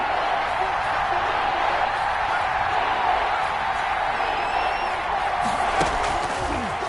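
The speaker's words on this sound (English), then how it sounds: "The crowd getting into it as we come up on a big 3rd down" A football stadium crowd roars steadily before a big third down, a dense, continuous wash of cheering and noise that stays loud throughout, with faint whistles and shouts rising from the mass.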